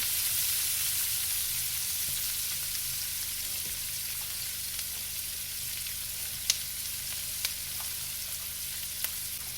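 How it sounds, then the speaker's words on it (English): Chicken for sweet and sour sautés in a pan, giving a steady, even hiss of sizzling oil close up with a few sharp pops and no talking. "saute in here."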